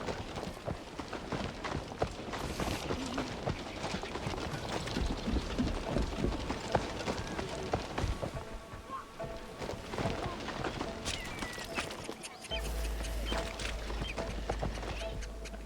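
Horse hooves clatter in a video game, a busy stream of steady galloping steps under layered game sounds and some voice, cutting to a different low rumble near the end.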